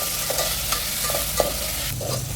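Potatoes frying with salt in a pan until they brown: a continuous bright sizzle with a few soft scrapes and stirs, close and fairly loud, no voices.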